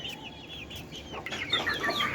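Young chicken chicks on a rooftop, one of a brood of seven, cheep and chirp in busy overlapping peeps that grow louder toward the end, heard close over a steady low background hum.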